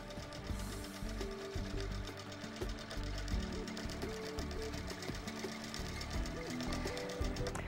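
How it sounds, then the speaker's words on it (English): Baby Lock Q-Drive quilting machine basting a quilt top, a steady rapid mechanical stitching whir with motor hum, continuous and moderately close, faint in level throughout. "I finished basting the top of the quilt."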